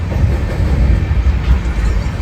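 The Amrit Bharat Express runs on its rails with a steady, deep rumble and faint wheel clatter, heard from on board with no talking.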